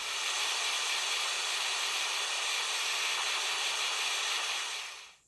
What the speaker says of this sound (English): It's making a hissing noise.